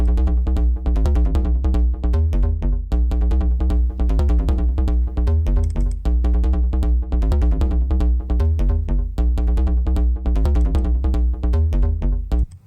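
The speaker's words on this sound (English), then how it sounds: "the start of this has some electronic bass, and it's actually just a bass loop." A looping electronic bass line from an SMT III style battle theme, driving steadily with repeating punchy low notes for the whole stretch; loud and dense with no voices.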